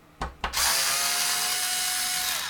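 A small Torx screwdriver backs out long silver motherboard screws: two quick clicks, then a steady, close mechanical whirring that runs on without a break.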